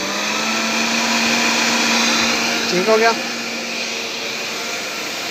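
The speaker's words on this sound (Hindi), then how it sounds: "तो यहाँ से हमारी ये वॉशिंग मशीन घूम रही है" A home washing machine runs on a solar panel setup, spinning with a loud, steady motor whine and hum that holds constant throughout, while a voice speaks briefly partway through.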